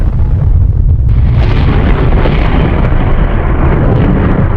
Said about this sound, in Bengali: পুরো নিউক্লিয়ার বমের মতো ব্লাস্ট হইলো